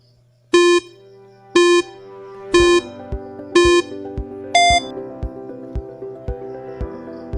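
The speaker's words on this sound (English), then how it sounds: "Your timer starts now." Quiz countdown timer for a math multiple-choice question: five bright electronic beeps about a second apart, followed by a steady ticking pulse with a low sustained tone, loud and clear with no voices.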